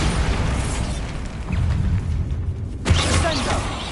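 Bombarda explosion spell in Hogwarts Legacy: a dense, rumbling blast with creaking, debris-like crackle, swelling again near the end with a sharp burst, loud throughout, and no voices over it.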